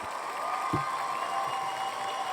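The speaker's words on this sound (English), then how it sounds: "Where's my clapping drop?" A short applause sound-effect drop: a thin, even wash of distant clapping and faint crowd noise lasting a couple of seconds at modest level.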